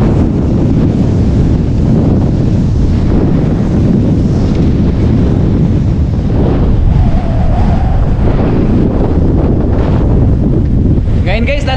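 Strong wind roars at the seashore, battering the microphone in a loud, unbroken rush for the whole stretch, with a faint voice briefly audible under the gusts near the end.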